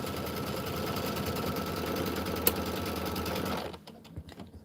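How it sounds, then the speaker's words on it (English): A sewing machine stitching batting down onto a quilt block, a steady fast mechanical chatter at moderate volume that runs without pause before stopping abruptly near the end, followed by a few faint clicks. "It's sewing my batting down."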